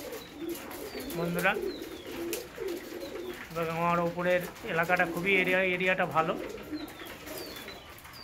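Pigeons in a rooftop loft coo in low, repeated throaty phrases, close by and moderately loud, with someone talking over and between the calls.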